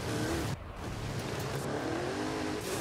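An 1,800-horsepower big-engined car in Forza Horizon bounces hard off its rev limiter, a loud continuous buzzing roar with a brief dip near the start, then steady high-rpm strain throughout, no talk.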